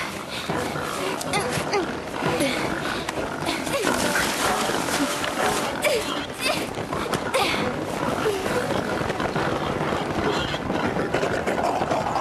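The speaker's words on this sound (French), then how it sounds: "Des sangliers." Wild boars grunting and charging through a forest, a dense, rough run of snorts, squeals and trampling that holds steady and close for several seconds, with voices speaking over it in an audio drama.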